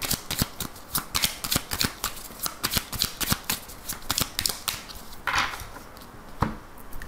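Oracle cards are shuffled by hand in quick, crisp riffling bursts that run steadily through the whole stretch, close up with no voice, followed by a couple of softer taps and slides near the end.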